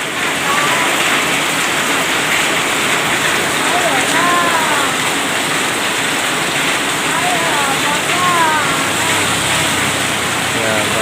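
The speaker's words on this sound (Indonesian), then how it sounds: "Hujan nggak ada reda-reda nih ya." Heavy rain pours with a dense, loud, steady hiss on a ride home from SD Plus Muhammadiyah, with vehicle motion underneath and brief voices rising through the downpour.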